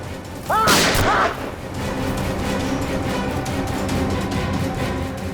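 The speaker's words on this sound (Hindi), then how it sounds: "इस कमरे से गोलियां चलने की आवाज आ रही है।" A loud burst of gunshots from inside a hotel room, two or three close together, with a brief high whistling tone, then a steady background hum.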